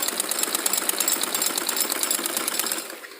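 A sewing machine runs steadily, stitching a second decorative line on warm fabric for a salwar, a fast even whir with rapid needle clatter that slows and stops near the end.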